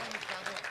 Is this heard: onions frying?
no